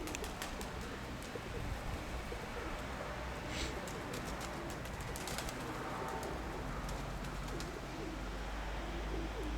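Pigeons coo softly in low repeated murmurs against a constant outdoor rumble, with occasional faint wing flutters and ticking sounds.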